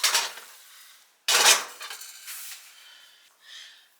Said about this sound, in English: now I'm going to go ahead and drain the grease